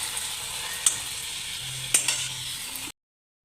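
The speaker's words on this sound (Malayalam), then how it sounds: "ചൂടായിട്ടുള്ള എണ്ണയിലേക്കിട്ട് പൂരിയൊക്കെ വറുക്കുന്നത് പോലെ" Bucket-shaped dough for bucket shawarma deep-fries in hot oil, a continuous close sizzle broken by two sharp clicks of a utensil before it cuts off abruptly.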